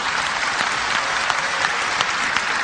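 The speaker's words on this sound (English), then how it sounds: "you're clapping" A crowd clapping during a debate on religion, a dense, even burst of applause that holds steady throughout without pause.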